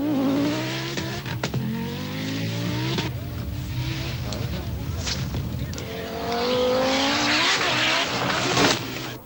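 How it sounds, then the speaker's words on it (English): An Audi Quattro Sport Group B rally car on a bumpy special stage blasts past with loud engine revving, gear changes and rising and falling pitch, a commentator's voice running over the noise. "the powerful Quattro Sport looks quite a handful"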